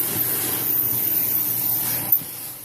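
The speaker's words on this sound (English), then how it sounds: "You can see it, you can hear the airflow of it." Dyson Cinetic Animal vacuum with a dusting attachment sucking up dirt along stairs, a steady close airflow hiss with a brief sharper burst near the end.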